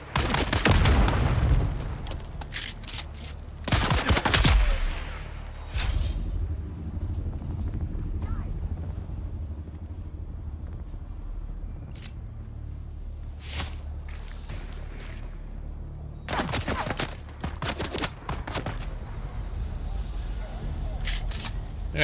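Gunfire in the video game Dune: Awakening, several sharp loud shots in bursts scattered through the stretch, with quieter game ambience between them and a voice talking at times.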